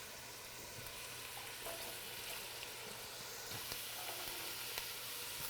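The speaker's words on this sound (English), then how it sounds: "Now this is a saute, everything together." Carrots and celery sauté together in a hot pan, giving a steady, close sizzle with occasional faint stirring clicks.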